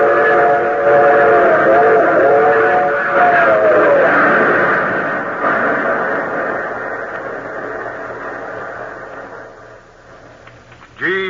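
A train runs with a steady droning whistle tone for the first few seconds, then the rolling rumble fades gradually, with a sharp clatter near the end.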